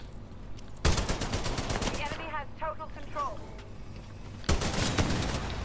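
Gunfire in Titanfall 2 comes as rapid bursts of automatic fire at the start and again near the end, with a quieter stretch of game effects in between while someone talks.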